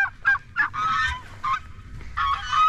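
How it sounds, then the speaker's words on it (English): Geese honking on a farm, a string of loud nasal calls close by, some overlapping, over faint low background rumble. "You can hear all the birds."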